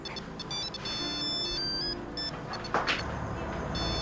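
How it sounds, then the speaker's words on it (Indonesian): A mobile phone ringtone chimes with a bright repeating melody for about four seconds, steady and fairly loud against a low background hum, with no one speaking over it. "itu HP Fitri, Tante."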